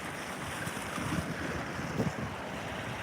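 Waves wash through an ocean inlet at Bethany Beach as Hurricane Erin passes offshore, a faint continuous rushing surf blended with wind noise, with no voices.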